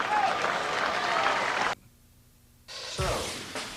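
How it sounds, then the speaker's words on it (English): Crowd at a 2003 high school 5A state championship baseball game, Elkins vs Round Rock, roars and claps loudly, then cuts to near silence before a burst of noise returns. "you can hear the roar of the crowd every time with the..."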